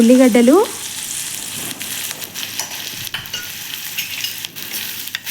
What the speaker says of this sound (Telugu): ఉల్లిగడ్డలు ఎంత బాగా వేగితే టేస్ట్ అనేది అంత బాగా వస్తుంది.